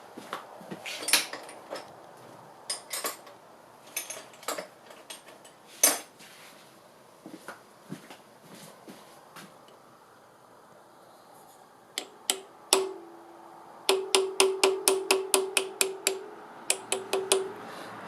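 A small metal key is tapped into the primary-side assembly of a Triumph Tiger Cub motorcycle, giving sharp metallic taps, scattered at first, then a quick run of evenly spaced light strikes near the end, close and without talk.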